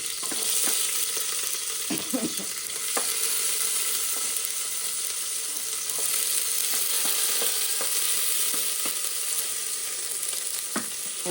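Onions and chillies fry in a hot pan with a steady close sizzle, broken now and then by soft stirring scrapes and taps, with no talk over it.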